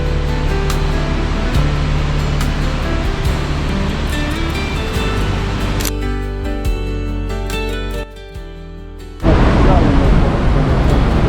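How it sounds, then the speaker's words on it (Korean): A steady, powerful roar of rushing water from a waterfall in Lauterbrunnen, Switzerland, fills the whole clip, loud and broadband, with a brief dip before it surges back even louder. "진짜로 정말로 어마어마한 폭포였어요"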